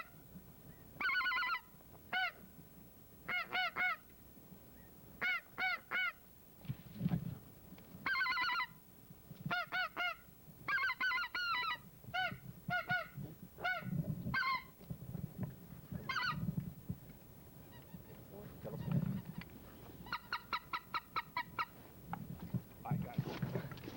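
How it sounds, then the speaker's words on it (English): Wild geese honking repeatedly in bursts of several calls at once, moderately loud over a quiet outdoor background with faint low rumble, during a 1993 waterfowl hunt in Acadiana. "No, that's a goose, Dr. Schumacher."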